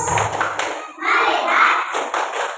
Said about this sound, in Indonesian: kita tepuk fokus terlebih dahulu